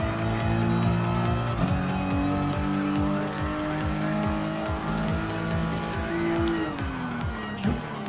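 Racing cars in a video game roar close by while overtaking a Porsche and a BMW, engines shifting pitch through gear changes with tire squeal, while a voice talks over them.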